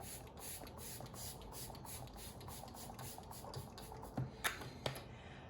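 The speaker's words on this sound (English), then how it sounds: "going in with Time Revolution Treatment Essence Mist Form" A facial mist of Time Revolution Treatment Essence sprays in a quick series of soft, evenly spaced hissing pumps, faint and close, followed by a couple of small clicks.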